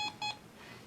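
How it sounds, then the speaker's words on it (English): Two short electronic beeps in quick succession, clear and close, over faint background hiss. "beep once for yes"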